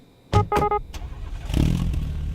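A car engine revs hard under heavy acceleration, opening with sharp bursts and settling into a rising, sustained roar with a rough grinding edge, close and loud.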